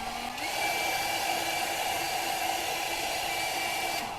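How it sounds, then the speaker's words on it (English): Steady whirring blast of a hair dryer heating a football, the constant airy whine running evenly for a few seconds after a brief click at the start, with no talking. "go on with the hair dryer again to make it hotter"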